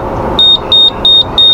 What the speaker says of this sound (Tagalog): ang nangyayari, nag-a-alarm siya kapag pinapatay mo siya